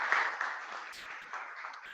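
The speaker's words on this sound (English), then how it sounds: "All of you just put a big round of applause for yourselves" Applause from an audience at a founder showcase event, a moderate wash of clapping that starts fuller and gradually thins, heard without speech.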